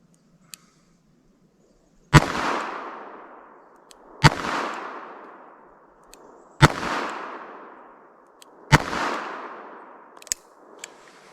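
Five sharp gunshots from a .44 slingshot and a low-powered .44 revolver, one faint crack followed by four loud reports spaced about two seconds apart, each trailing off in a short echoing decay.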